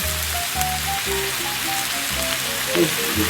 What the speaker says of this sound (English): Veggies are sweating a little bit more.